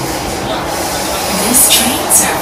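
Kawasaki CSR-Sifang C151A SMRT metro train running between City Hall and Marina South Pier, a steady interior rumble with a brief rising hiss and squeal toward the end.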